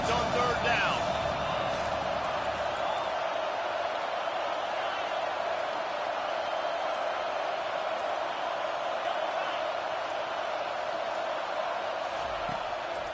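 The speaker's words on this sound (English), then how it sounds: "Decibels rising as the crowd gets behind this defense on 3rd down." A video game football stadium crowd on 3rd down, a dense, steady roar of many voices that holds loud throughout without a break.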